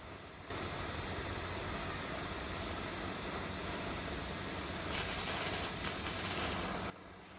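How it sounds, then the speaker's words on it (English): High-pressure steam hisses steadily from the valve of a propane-heated boiler, a loud continuous broadband rush that starts abruptly, swells briefly near the end, then cuts off. "Because the high pressure steam is invisible, that is why you can't clearly see the steam."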